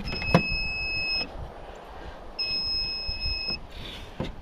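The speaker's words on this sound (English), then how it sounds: "it is giving us a beeping warning that the battery is dead" A Toro PowerMax e26 HA electric snow blower with dead batteries sounds its warning, two sustained electronic high-pitched beep tones about a second long each, separated by a pause, over faint background noise.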